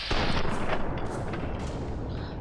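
Gunfire in Fallout New Vegas, a dense burst of sharp shots and booms up front that thins into a rattling tail, with no talking.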